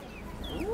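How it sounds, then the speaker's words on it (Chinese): Free-range farm hens cluck faintly against a busy outdoor background, with a clearer rising call near the end of the brief moment. "家里养的土鸡 可以下蛋。"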